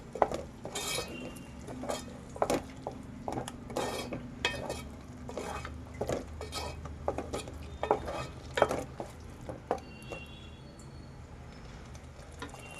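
A spoon clinks and scrapes in a pan while tomato puree masala for dhaba-style achari paneer is stirred, with a light sizzle beneath; the knocks come close and irregular, with no talking.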